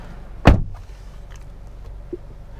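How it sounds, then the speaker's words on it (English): A single solid thunk as the door of a 2022 Honda Civic hatchback is pulled shut from inside, loud and close, followed by quiet cabin ambience and a faint click. "reaching over to shut the door of the Honda Civic"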